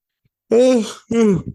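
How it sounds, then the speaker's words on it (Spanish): A person gives two voiced, groaning yawns in a row, the first longer and the second shorter, close and loud against silence. "bostezo mucho con los audífonos estos"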